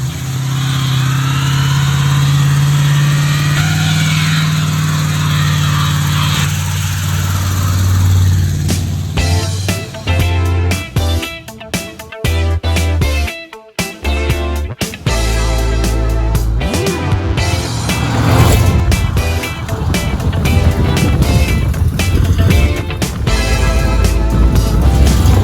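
A hot rod car drives past and accelerates, its engine rumbling and revving loudly with rising and falling pitch, broken by gear changes and bursts of wind buffeting, and no one speaks.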